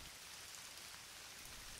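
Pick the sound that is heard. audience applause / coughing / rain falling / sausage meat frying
rain falling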